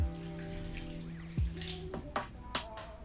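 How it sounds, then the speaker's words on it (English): Water is poured off a product set up for ripple shots, making soft splashes followed by scattered drips and small plops, quiet and close. "I'll just take it off and I'll just pour it off like that."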